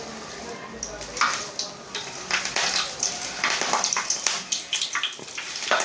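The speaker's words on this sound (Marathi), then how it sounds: "थोडीशी मिरची तळून घेणार आहे मिरची असल्याशिवाय भारी नाही लागत त्यामुळं अगोदर मिरची तळून घेते" Green chilies frying in hot oil before making crispy onion bhaji, bubbling and crackling in bursts over a steady sizzle, close and moderately loud.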